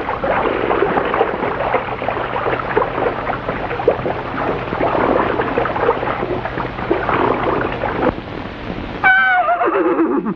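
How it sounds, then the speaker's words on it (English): A wild stallion neighs and whinnies amid dense, continuous noise in a 1929 Western film soundtrack, with a sharp, falling whinny standing out clearly near the end. "Is a wild stallion coming across?"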